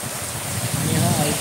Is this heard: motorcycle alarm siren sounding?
no